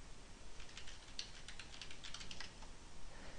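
Someone types an admin password on a computer keyboard, a quick irregular run of close, fairly quiet key clicks with no talking.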